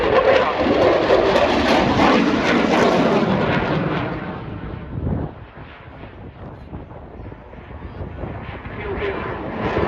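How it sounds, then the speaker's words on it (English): A Eurofighter Typhoon FGR4 jet roars loudly as it accelerates past at the Duxford air show, a broad rumbling blast that fades and dips midway before building again, with wind buffeting the microphone. "So, Nathan, accelerating the Typhoon to around somewhere in excess of 500 miles an hour."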